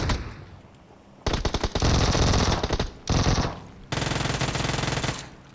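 Loud automatic gunfire in the mobile battle-royale game PUBG Mobile, bursting in three long sustained volleys with brief gaps between, close and dominant with no talk over it.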